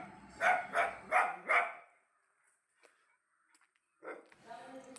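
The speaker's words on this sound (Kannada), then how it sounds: "ನೋಡಿ, ಅದೇ ನಾಯಿ." A dog at a neighbour's house barks four times in quick succession, fairly close and clear; after a short quiet pause, a person starts talking.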